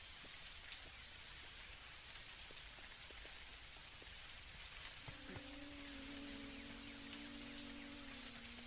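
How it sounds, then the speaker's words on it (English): Steady rain falling in the video game Dinkum, a dense, even hiss of drops on surfaces throughout, with a faint tonal hum joining partway through. "especially while it's raining now"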